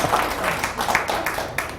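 A short burst of audience applause at a speech event, scattered claps filling under two seconds before tapering off.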